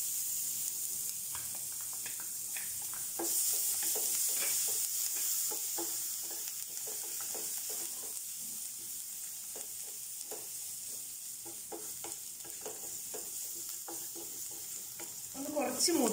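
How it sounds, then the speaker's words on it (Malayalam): Crushed black pepper, cumin, garlic and green chili frying in hot oil for tomato rasam, a soft steady sizzle with repeated stirring scrapes, fairly quiet and without talk. "ചതച്ച് വെച്ചിരിക്കുന്ന കുരുമുളകും ജീരകവും ഇനി ചതച്ച് വെച്ചിരിക്കുന്ന വെളുത്തുള്ളിയും പച്ചമുളകും."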